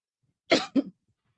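A speaker in a talk on ethics and anti-corruption lets out two sharp, close coughs in quick succession, followed by silence.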